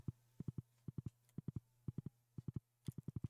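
Horse hooves clip-clopping in the farming game Stardew Valley, crisp quick triplets of hoof beats repeating in a steady trotting rhythm over a low hum, close and alone.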